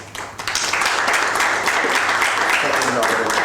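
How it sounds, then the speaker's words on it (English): Audience applause at a book talk, a dense wash of many hands clapping that swells in after a moment and holds steady and fairly loud throughout. "Second round of applause."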